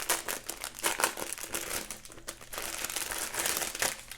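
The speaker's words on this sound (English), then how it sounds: "remember they gave us those resealable bags, which is really handy. We open these up." Resealable plastic bags holding diamond painting drills are opened and handled up close, giving a continuous crisp crinkling that rustles throughout.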